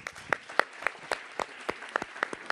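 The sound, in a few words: audience applauding the three speakers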